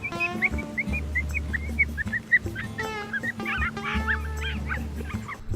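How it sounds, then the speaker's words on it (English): High, wavering coyote pup distress screams repeat in quick bursts from a caller during a coyote hunt, over a low steady hum, on a windy day. "Put some pup screams on, see if that'll get him."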